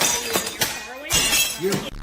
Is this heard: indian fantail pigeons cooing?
no